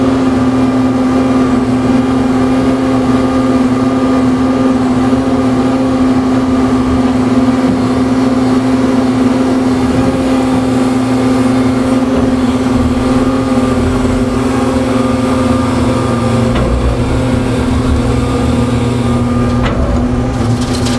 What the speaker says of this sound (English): So let's load the dump truck.